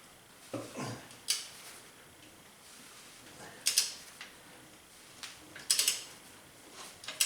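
Metal clicks and ratcheting clatters from a torque wrench working loose a bolt on the front accessory drive of a 1977 Camaro Z28, arriving in a few separate bursts with quiet gaps between them and no talking.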